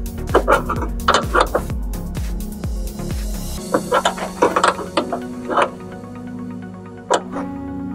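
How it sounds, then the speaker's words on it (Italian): A wrench tightens a 12 mm nut on a gas strut fitted to the bonnet of a Volkswagen Golf 8. It gives close, sharp ratcheting clicks in quick bursts over a steady hum, with no talking. "Serratelo poi con una chiave, questo qui ha un dado da 12 mm."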